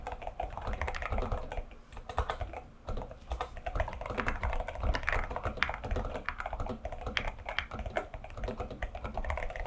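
Steady, fast typing on a mechanical keyboard with some magnetic switches, with smooth, deep, muted keystrokes clattering continuously at close range.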